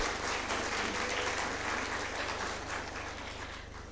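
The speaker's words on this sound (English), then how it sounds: "So let's all give a big round of applause." Faint, distant applause from a crowd at a college commencement ceremony, a steady wash of clapping over a low hum that gradually softens.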